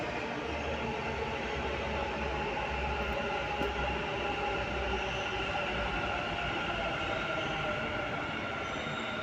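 A nearly empty metro train running, with a steady loud rumble and rushing wheel and track noise that carries on without a break. No one speaks.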